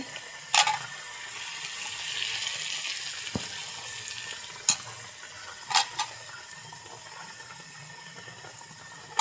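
Garlic sizzles in hot oil in a pan as the base for a hilsa fish curry with plantain and potato, a steady, quiet frying hiss broken by a few sharp clicks and clatters from utensils.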